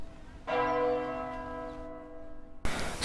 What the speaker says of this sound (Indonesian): sebuah gedung atau bangunan dengan suara bunyi jam pada bangunan tersebut